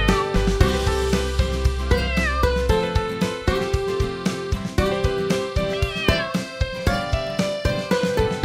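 A cartoon kitty meows repeatedly within a sung nursery rhyme, with the short sliding mewing cries woven through the music.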